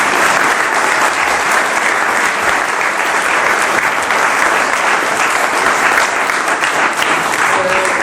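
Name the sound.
audience applauding the panel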